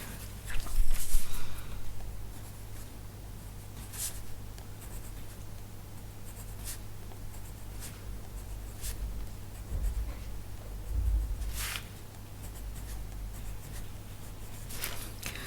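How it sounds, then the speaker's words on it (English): A pencil draws over the lines of a colouring book, giving close, scratchy strokes in uneven bursts with brief taps and pauses and no voices. "Also gonna add a little bit of that pencil here and there on the lines."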